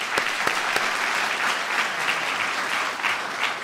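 Applause from a ceremony audience fills the space at a steady, dense level, with a few sharper claps standing out near the start, and no voices over it.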